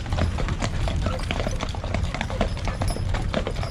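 Horse hooves clip-clop steadily in a quick, even rhythm at a Gold Rush era historic state park, close and distinct over a busy outdoor background.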